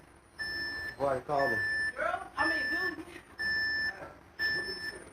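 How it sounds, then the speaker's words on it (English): An electronic alarm beeps in steady, regularly spaced tones while people talk nearby and over it. "Beeping's annoying. I guess that's the alarm."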